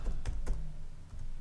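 Several quick keystrokes tap out a short word on a computer keyboard, close and fairly quiet, with a brief pause before a few more soft clicks.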